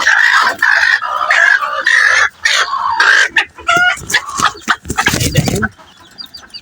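Hens in a cage give loud, close clucks and squawks in bursts, with a rooster-like crowing call rising near the end and no talk over it.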